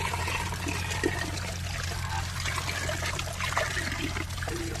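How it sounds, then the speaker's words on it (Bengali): Running water while vegetables are washed, a steady trickling and splashing stream with occasional small knocks, moderately faint and continuous, without speech. "এখন সমস্ত সবজি তাহলে পরিষ্কার করে ধুয়ে নিচ্ছে।"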